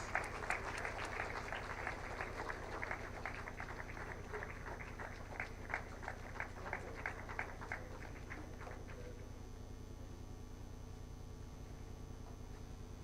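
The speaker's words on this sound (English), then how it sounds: "Kindly join me in welcoming the awardees with a warm round of applause." An audience claps steadily for awardees at the National Intellectual Property Awards 2024 ceremony. The applause is fairly faint and dense, then fades out after about nine seconds, leaving a low hum.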